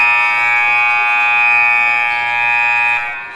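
A sustained basketball timeout buzzer at a girls' high school game, Monroe Hornets versus Badin Rams, blares loud and steady for over three seconds before cutting off.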